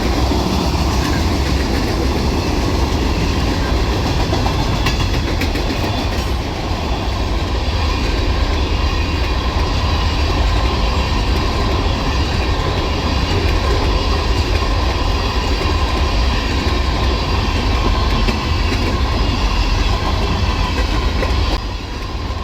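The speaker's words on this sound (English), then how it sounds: "The train turns out to be M63427, Columbus, Ohio to Selkirk, New York manifest freight and trash." A manifest freight train from Columbus, Ohio to Selkirk, New York rolls past at night in Fostoria, Ohio, with a loud, steady rumble and clattering wheels that fill the whole stretch before easing off at the end.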